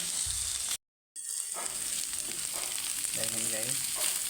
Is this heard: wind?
no